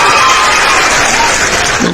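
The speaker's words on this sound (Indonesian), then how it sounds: "tepuk tangan dulu" Applause from a congregation at a church gathering, a dense continuous clatter of clapping throughout, loud and close, with a faint voice near the end.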